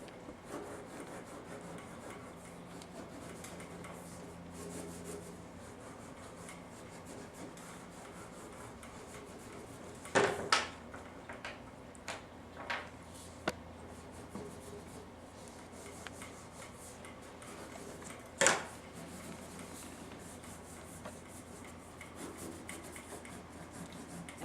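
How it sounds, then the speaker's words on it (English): Quiet, steady rubbing of crayon pressed hard onto paper for a watercolor resist drawing of a cathedral window, with a few sharper taps and scratches scattered through, close and alone. "you have to press very hard on the crayon so that it will resist the watercolors."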